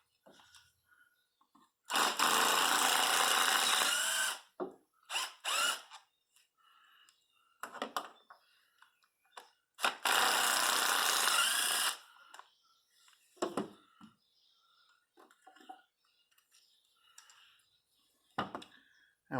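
A ratchet or power driver spins out the ignition coil bolts on a Pontiac Grand Prix with a 5.5 mm socket, two loud sustained bursts of about two seconds each, separated by scattered clicks and handling noises.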